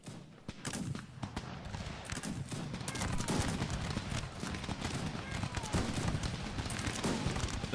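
Musket volleys crackle in a Cossacks 3 battle between British and French line infantry, a dense continuous rattle of overlapping shots with galloping hooves and battlefield noise, fairly loud throughout with speech mixed in.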